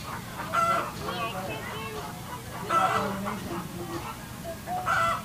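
Chickens cluck and a rooster-like call rises among fowl at a petting zoo with a turkey nearby, the bird sounds fairly faint and intermittent while people talk close by.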